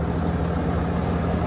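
A 2021 Ram 3500 heavy-duty pickup engine idles at close range, giving a steady, even low rumble with no talking over it.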